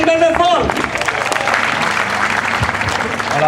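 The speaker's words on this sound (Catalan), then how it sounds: "Un aplaudiment ben fort!" A loud crowd at a rally in Barcelona breaks into dense, sustained applause and cheering, with voices shouting throughout as the clapping carries on without a break.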